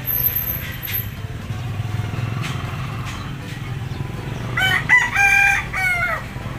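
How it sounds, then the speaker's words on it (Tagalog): A rooster crows a few times near the end over low background rumble, and faint clucking is heard earlier. "Dami niyang manok dito."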